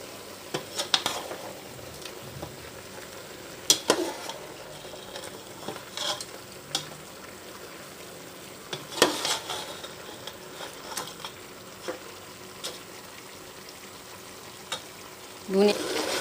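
Garlic and ginger paste frying with chicken in a pan: a continuous sizzle broken by repeated scraping stirs and clinks of a utensil against the pan, close up, with no voices.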